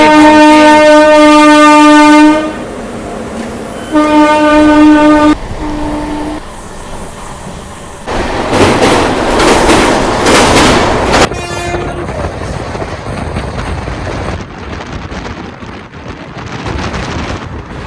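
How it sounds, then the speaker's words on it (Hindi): Bilaspur Tirupati Express pulling out with new LHB coaches, opening with loud sustained blasts of a multi-tone train horn, then roaring wheel and rail noise and wind buffeting as the coaches pass close by. "हमारी बिलासपुर तिरुपति एक्सप्रेस, जो कि हो चुकी है न्यू LHB"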